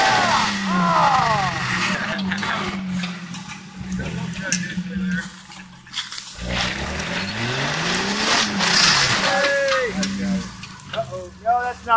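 A Jeep drives offroad through a big muddy rut as its engine revs up and down in rising and falling sweeps. People talk loudly over the engine throughout.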